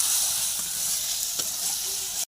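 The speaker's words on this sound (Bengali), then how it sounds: "মশলাটা একটু কষে জল ঢেলে নিতে হবে, ভালো করে কষাতে হবে" Turmeric and chili powder sizzle in a hot oiled pan for a duck egg curry with new potatoes, a steady close-up frying hiss with a brief stirring scrape midway before the sound cuts off abruptly.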